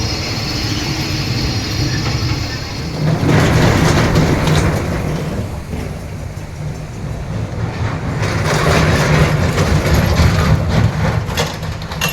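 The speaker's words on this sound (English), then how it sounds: "Look at that steam engine. Look at that locomotive." A steam locomotive runs at an amusement park with a heavy, low rumble and a broad mechanical roar. The sound swells louder in two surges as the engine passes nearby.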